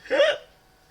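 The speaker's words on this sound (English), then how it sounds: "Getting the hiccups." A single close, sharp hiccup bursts out at a lively birthday party after someone chugs liquor, short and breathy with a quick fade.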